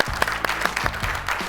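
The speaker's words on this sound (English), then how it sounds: "I'm clapping for myself." One person clapping their hands in a studio, a quick run of sharp close claps with an uneven rhythm, about seven over a second and a half, alone and without speech.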